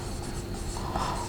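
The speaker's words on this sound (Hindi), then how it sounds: "अच्छा मैं ऊपर लिख रही हूँ" Pen scratching across paper during a lesson, a soft continuous scraping with faint strokes, close and quiet, with no talk.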